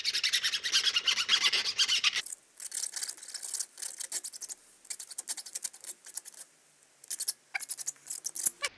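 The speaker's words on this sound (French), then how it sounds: "je prends ma lime, comme ceci, et je vais venir frotter les bords de la vis" Hand file rasping along the edges of a cut screw during a Honda Dominator 650 RD02 rebuild, a steady close scraping at first, then shorter repeated strokes with brief pauses between them.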